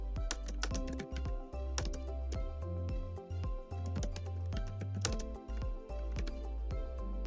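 Someone types steadily on a computer keyboard close by, producing a quick, uneven run of clicking keystrokes with a few short pauses and no talking.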